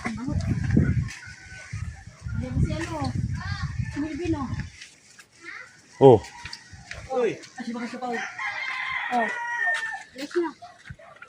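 Chickens clucking and a rooster crowing nearby in a rural village in Bicol, Philippines, mixed with people talking close by throughout.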